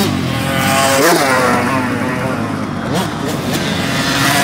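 Motorcycles pass on a training track during a riding course at Thouars, their engines roaring near and loud in rising and falling sweeps as the bikes go by, with a voice talking over them.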